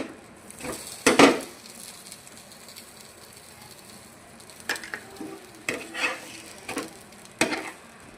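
A karam dosa topped with lentil powder cooks on a pan with oil, giving a soft low sizzle broken by a few sharp clinks and scrapes of a spatula against the pan.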